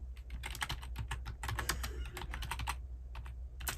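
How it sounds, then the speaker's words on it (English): Steady clatter of typing on a computer keyboard, close and fairly loud, with quick irregular keystrokes running without pause through the whole stretch and no talking. "let me type in"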